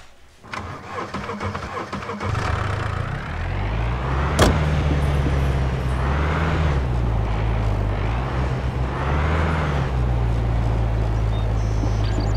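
A car engine in the video game SCUM cranks and starts, then idles and revs in smooth rising and falling swells, steady and close, with no talking.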